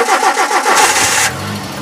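A carbureted 2004 engine, left in neutral, cranks with quick rhythmic pulses and then catches, settling into a smooth, steady idle. It is close and loud, with no talking.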